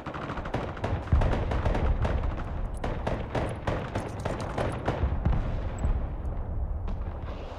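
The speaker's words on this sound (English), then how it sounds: "I'm firing rockets at that artillery" Rapid bursts of gunfire and rocket launches boom in a dense, continuous barrage in the video game Broken Arrow, loud and sustained with no talk.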